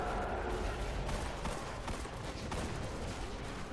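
Sidearm gunfire in the video game Destiny: The Taken King, a dense stream of shots blended into loud game action and music with no clear gaps.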